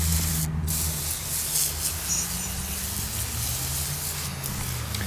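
Gunk degreaser sprays steadily onto a 1988 Honda Fourtrax 300 ATV, a continuous close hiss over a low background hum with a brief pause near the start.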